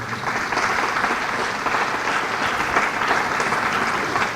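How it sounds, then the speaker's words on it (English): Audience applause at a suicide prevention and awareness day event in Dallas, a dense, steady roar of clapping from a crowd filling the whole moment. "One more round of applause for the great Eric Nadell."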